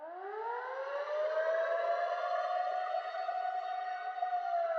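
Rising, wailing siren sound effect in a dark, energetic boom bap beat, sweeping upward and then holding a long sustained tone with rich harmonics, loud and alone.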